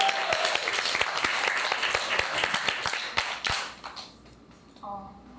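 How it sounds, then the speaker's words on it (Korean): An audience at a college music department's graduation concert in a live hall claps, with sharp individual claps standing out, then the applause thins and fades toward the end. "그럼 박수 주시면 시작하도록 하겠습니다"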